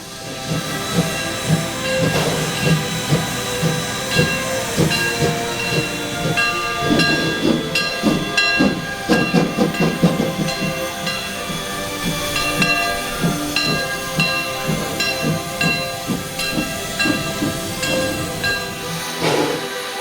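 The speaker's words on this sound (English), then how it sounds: "These engines are genuine coal and wood burners." A genuine coal and wood burning steam locomotive at a steam museum hisses and chuffs loudly and steadily, with rhythmic mechanical clanks and a faint whistle tone running through the sound.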